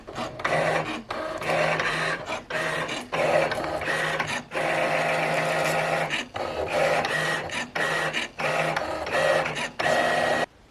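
A Singer Momento electronic cutting machine cuts a vinyl design with whirring, printer-like motor runs in short and long bursts, broken by brief pauses as the carriage shifts, steady and close.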